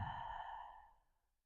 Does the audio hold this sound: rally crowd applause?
no